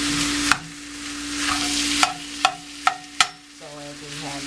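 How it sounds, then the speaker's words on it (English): Italian sausage and ground turkey cook together in a pot, a low sizzle underneath five or six sharp spoon knocks and scrapes against the pot, spaced unevenly a second or so apart. "going to cook your Italian sausage and ground turkey together"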